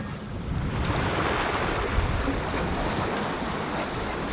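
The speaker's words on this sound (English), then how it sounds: "Got full canvas up, wind coming off of our forward quarter, really mild swell." Waves and wind rush steadily around a sailboat under full canvas in a mild swell off southern Baja, a continuous broadband wash with microphone wind noise and no voices.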